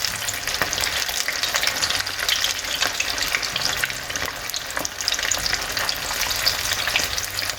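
Cheesy potato corn cutlets fry in oil until golden brown, giving a steady, close sizzle dotted with sharp crackles and pops throughout, with no voices.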